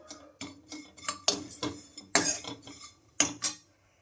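Varagu millet vermicelli dry-roasted in a pan, heard as a series of sharp metallic clinks and scrapes of a spoon against the pan at an uneven pace, close and fairly quiet, no talking.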